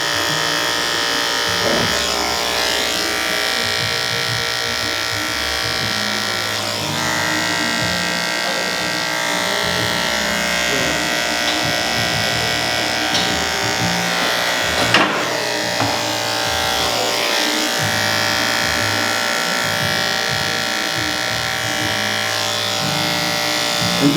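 An electric hair clipper fitted with a 5-0 blade runs continuously at close range, giving a loud, steady buzzing drone for the whole stretch with only slight shifts as it moves through hair during a fade haircut.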